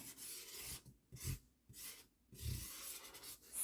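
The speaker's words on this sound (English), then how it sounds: "So I'm going to take my box, and I'm just going to write" A pen or marker scratching and rubbing across the side of a cardboard box in several short strokes with brief pauses between them, close and quiet, with no talking.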